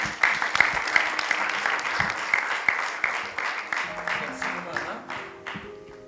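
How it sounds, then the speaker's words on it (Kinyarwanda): Church congregation applauding for Jesus during a sermon: dense, close clapping that stays loud, then thins and fades toward the end, with voices talking over it. "Amashyi menshi ku Mwami Yesu."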